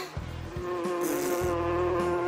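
A steady, close insect-like buzz hums continuously with a strong tonal drone and soft rhythmic pulses under it.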